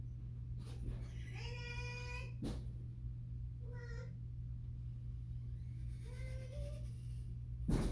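A cat meows three times, each call drawn out and fairly close, with short pauses of quiet room hum between them.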